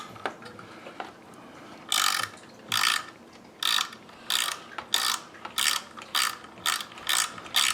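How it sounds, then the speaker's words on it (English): A right angle ratchet fitted with a screw adapter loosens screws inside a Pioneer SA-6500 II stereo amplifier, giving about nine rapid, crisp clicking bursts in an even rhythm, close and fairly loud, with no talk. "I'm going to use my right angle ratchet with screw adapter"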